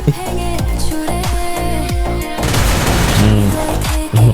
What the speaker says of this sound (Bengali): ওকে একটা হেডশট মেরে